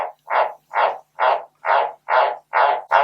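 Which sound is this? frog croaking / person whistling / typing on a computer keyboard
frog croaking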